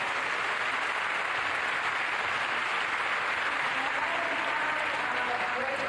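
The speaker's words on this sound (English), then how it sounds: "let's give another round of applause to our panel" Steady, dense applause fills a conference hall at COP28 as the audience claps for a panel on women's role in climate resilience, even and sustained without a break.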